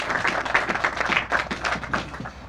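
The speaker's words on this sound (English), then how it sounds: "please give a round of applause to Senator Rich Funky" At an outdoor groundbreaking ceremony, a modest crowd claps for a senator, a small group of distinct, close hand claps that thin out toward the end.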